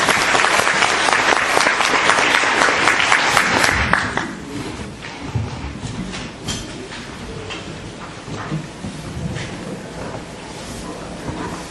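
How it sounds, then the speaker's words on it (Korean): An audience at a real estate finance seminar in the National Assembly applauds loudly and densely for about four seconds, then the clapping thins to scattered, quieter claps that continue in the background. "뜨거운 박수 부탁드리겠습니다."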